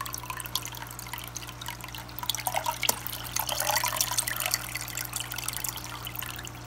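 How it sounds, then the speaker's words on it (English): An aquarium filter sends a small, steady trickle of water into the tank, a faint continuous splashing over a low hum, close and quiet. "And you get a nice little trickle."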